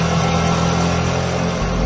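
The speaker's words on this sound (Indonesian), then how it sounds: "ku dengar ada bunyi sepeda motor" Steady motorcycle engine droning at a constant level for about two seconds, with no voices over it.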